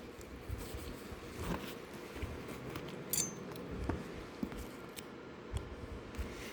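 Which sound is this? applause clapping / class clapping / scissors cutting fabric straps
scissors cutting fabric straps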